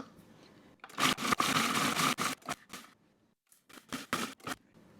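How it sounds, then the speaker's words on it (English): Short bursts from a food processor pulsing biscuits into fine crumbs, several loud whirring pulses of varying length separated by near-silent pauses, close and alone. "I am going to pulse them in my food processor until they have a fine crumb"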